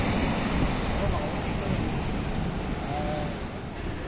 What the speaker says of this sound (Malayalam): അത്രയും ഹെവി ആയിട്ടാണ് അതിൻ്റെ തിരമാലകൾ വരുന്നത്.